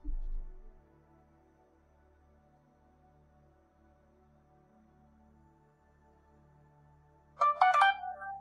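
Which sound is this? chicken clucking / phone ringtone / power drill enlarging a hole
phone ringtone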